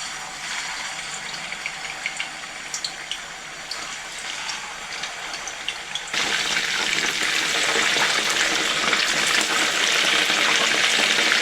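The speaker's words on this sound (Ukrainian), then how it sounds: "смажуємо з обох боків великій кількості олії" Steady sizzling of meat patties frying in plenty of hot oil, close by, growing louder and denser about halfway through.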